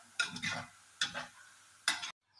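Ingredients for bitter gourd pickle fry in oil in a pan, heard as three bursts of crackling, stirring sizzle separated by short pauses, close and moderate, ending in sudden silence.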